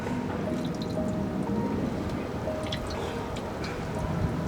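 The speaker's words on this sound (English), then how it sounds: "So let me pour this water into the bottle a little fast." Water is poured quickly from a glass into a bottle, making a steady, continuous splashing gurgle that stays fairly loud and even from start to finish, with no voices over it.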